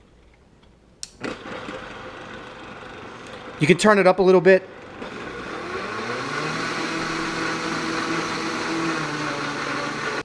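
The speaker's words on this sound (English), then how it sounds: "So I'm going to just blend this at a normal speed." A blender whirs at normal speed, mixing coffee with butter and MCT oil, in a steady, loud drone after a brief clatter, while a person speaks over it.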